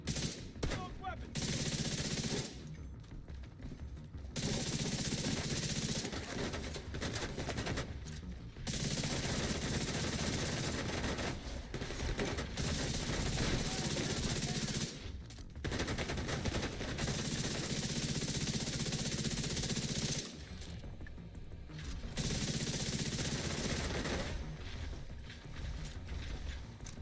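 Bursts of automatic gunfire from a weapon in The Division 2 video game, several long loud volleys broken by short pauses, with mechanical clatter between them.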